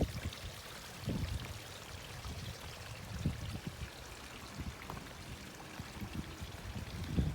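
Water splashes and trickles steadily at close range from a small garden pond fountain spilling into a pool, with no talking.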